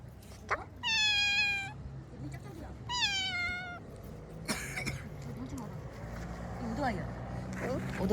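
Cats meow at a valley-side campsite: two drawn-out, clear meows up close, then fainter chirping calls, with a person murmuring and outdoor background noise underneath.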